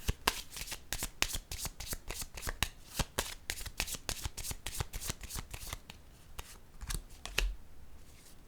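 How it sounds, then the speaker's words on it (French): Tarot cards shuffle in a rapid, crisp riffle of dense flicks and snaps close by, easing near the end as a card is laid down with a soft tap. "Attendez, je vais déposer une carte sur la créativité."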